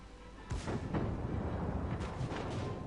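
Torpedo strikes in a naval battle video game: a sudden heavy boom followed by sustained low rumbling and further muffled thuds, loud and continuous to the end.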